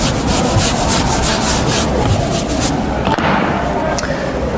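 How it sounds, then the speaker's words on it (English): A board eraser rubs chalk or marker writing off a classroom board in steady continuous strokes, close and fairly loud, with a brief knock near the end. "Now I'm going to rub off this section here to give us a little bit of space."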